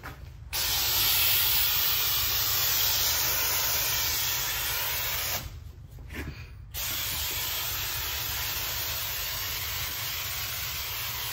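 A drywall texture sprayer spraying onto corner bead, a loud continuous airy hiss that cuts out briefly partway through, stutters, then resumes steadily.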